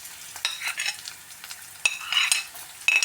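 Garlic and onion sizzle quietly in a frying pan while a utensil stirs them, giving a series of soft scraping strokes over a steady low crackle.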